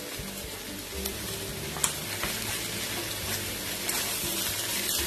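Boiled rohu fish and grated potato frying in a pan, a steady close sizzle running throughout with a few faint clicks of stirring.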